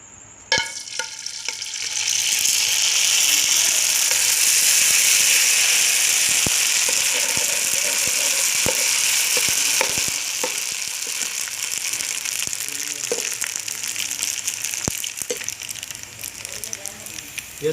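Loud, steady frying hiss surges up as Arabian lays go into fully heated oil, then crackles on continuously with scattered pops and clicks, close by.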